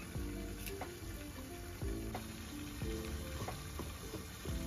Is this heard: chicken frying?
yes